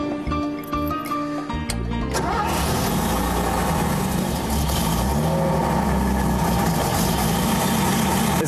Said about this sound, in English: The sound of the engine is always a real thrill.